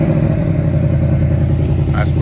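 A 2024 Ford Mustang Dark Horse V8 with active exhaust starts by remote and settles into a loud, deep, throbbing idle, close by and steady, with someone talking over it.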